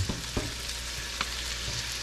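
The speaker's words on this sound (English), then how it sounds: "Bacon sizzling." Steady crackling sizzle of bacon frying in a pan, with a few soft clicks and scrapes over the constant hiss.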